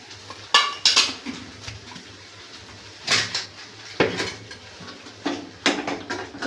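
A spoon stirs spices with turmeric and Malvani chilli masala in oil in a metal pan, making irregular scraping clanks and knocks in bursts. The sounds are close and separated by quieter gaps.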